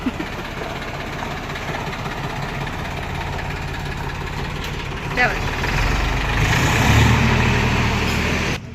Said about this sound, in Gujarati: ક્યાં જાવ ટ્રેક્ટર લઈને?